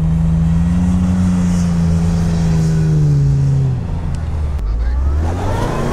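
A 4x4 off-road vehicle on 215 sticky tires churns through mud, its engine droning loud and steady before the revs drop and surge again, close by with no talk over it.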